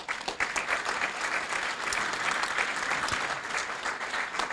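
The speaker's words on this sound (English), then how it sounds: "please join me in giving yourselves a round of applause" Graduates and guests at a college hall rededication ceremony applaud themselves, a steady, dense round of clapping heard from a moderate distance, alone without talk.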